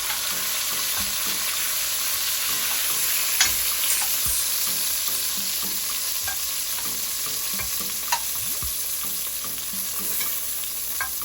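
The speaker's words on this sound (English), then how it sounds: "You don't want to cook them all the way. You just want to sear them off." Turkey pieces sear in a hot pan with a loud, continuous sizzle and crackle, close up, broken by occasional scrapes and taps as the pieces are moved.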